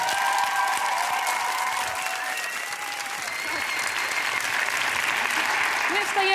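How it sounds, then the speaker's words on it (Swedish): Studio audience on a Swedish talk show applauds a guest, a dense, steady wash of clapping that holds at even loudness throughout, with a few voices faintly audible under it. "Mia Lordalen, en varm applåd."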